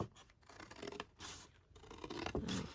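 Scissors snip through paper while folding an envelope, giving several quiet, close crisp cuts with short pauses between them.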